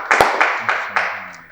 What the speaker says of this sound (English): Clap for them, they are correct.